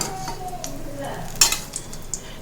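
Toor dal paniyaram sizzling in a paniyaram pan as it is flipped, a soft steady frying hiss with a few light scraping clinks of the turning utensil.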